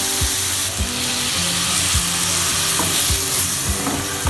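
Loud, constant sizzling and crackling of ground paste frying in a hot pan with onion and tomato for prawn gravy, with occasional scraping stir sounds and a steady mechanical hum.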